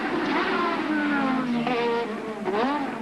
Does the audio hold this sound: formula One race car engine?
yes